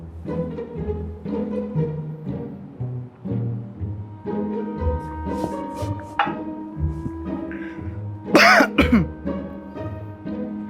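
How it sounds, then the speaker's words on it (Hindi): Someone coughs repeatedly in rough, harsh bursts, close by, with throat clearing between fits and a louder hacking spell near the end. "खांसी ही नहीं रुक रही मेरी"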